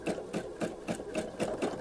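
A sewing machine doing free motion quilting, its needle running in a quick, even rhythm of about three stitches per second, close and steady with no voices.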